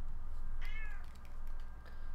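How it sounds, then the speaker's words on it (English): A pet cat that is being held up gives a brief, rising meow at close range over a steady low background hum, followed by a few faint scraping sounds. "I held my cat up for a second."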